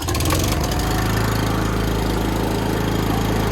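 A small petrol engine started on choke settles into a loud, steady running drone close by, after a brief uneven catch in the first half second, with no talking.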